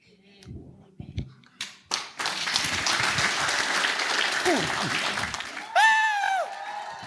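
Congregation at a Tagalog sermon breaks into clapping after a few scattered claps, building into a full, steady round with a preacher's voice calling out over it.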